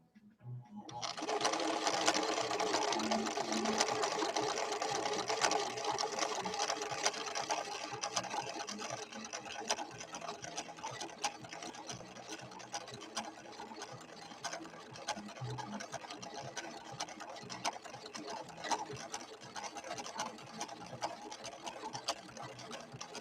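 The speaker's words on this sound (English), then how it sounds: "let's see how this Cam B functions in this machine" A red Husqvarna Viking 6460 sewing machine stitching with a Cam B pattern cam installed, running steadily and close for over twenty seconds after a short start, with a dense, even mechanical whir and no talk.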